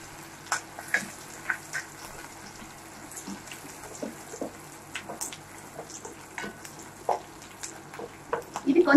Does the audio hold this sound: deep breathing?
no